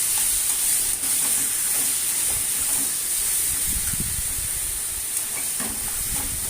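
Taro leaves being stirred in a pan as they cook down, a steady sizzling hiss with soft scraping and stirring sounds running throughout.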